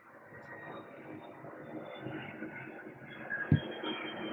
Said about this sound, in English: Lots of planes flying overhead